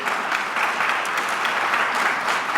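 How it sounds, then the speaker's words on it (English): Audience applause for Harvard faculty at a Latinx graduation ceremony, a steady, dense wash of clapping from a large crowd that holds constant throughout. "Let's give them a round of applause for everything they've done to help you get to this point."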